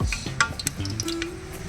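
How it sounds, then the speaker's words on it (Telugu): Whole spices (mace, cardamom, cloves, cinnamon) frying in a pan for chicken pulao, a soft crackling sizzle broken by scattered stirring clinks and taps of a spoon, close and alone without talk. "ఇది ఒక నిమిషం ఫ్రై చేసుకుందాం"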